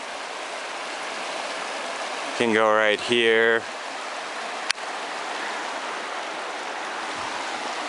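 A low-running river at the Piedra River hot springs gives a steady, close rushing wash of water throughout, with a person briefly speaking over it midway.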